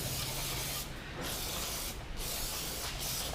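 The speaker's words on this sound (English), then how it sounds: "I like to spray out all the cylinders, make sure we get all the cylinders cleaned out" Continuous loud hissing spray of cleaner into the cylinders of a Honda J35 V6 engine block, close up, with a few brief dips in the high-pitched rush as the nozzle shifts; no talking.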